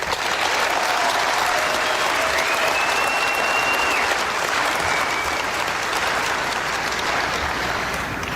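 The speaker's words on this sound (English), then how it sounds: "let's give ourselves a big round of applause" A class of 2020 graduating crowd applauds itself at a high school graduation ceremony, dense, loud, continuous clapping sustained evenly across the whole stretch with a faint tone drifting through.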